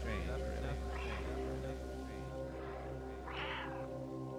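Several soft, drawn-out cat meows from the video game Stray, spaced a second or so apart, the last one louder, over a steady low hum.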